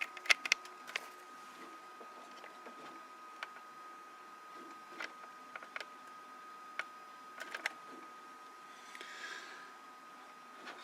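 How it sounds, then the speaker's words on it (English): 3D printer laying down raised text on a model's surface, a quiet steady whir punctuated by scattered sharp ticks and clicks at irregular intervals, heard alone. "so looks like it's printing the text first"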